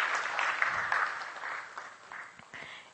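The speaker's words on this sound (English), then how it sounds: "Please let's give him a huge round of applause." An audience at a conference applauds after an anthem, with sustained clapping that slowly thins and fades over a few seconds, a few louder individual claps near the end.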